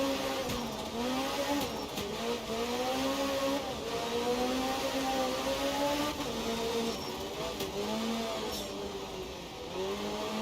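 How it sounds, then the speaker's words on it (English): Race car engine in the Automobilista 2 sim, seemingly a Peugeot in an IMSA event, revving steadily with rising and falling pitch sweeps as it brakes into a chicane by hay bales, a fluttering turbo on lift-off, continuous and close. "Can really hear the turbo flutter of the seemingly Peugeot into the final chicane round the hay bale"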